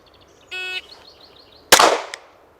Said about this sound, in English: Single shots to the body from 15 yards times 5.